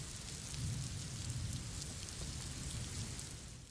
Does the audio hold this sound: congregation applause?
no